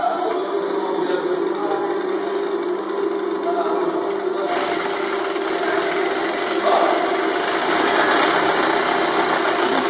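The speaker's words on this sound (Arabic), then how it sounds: "ونشد ونخيط" Sewing machine stitching fabric for a Moroccan garment, a close steady motor whir running throughout and growing louder and brighter midway, with faint talk beneath it.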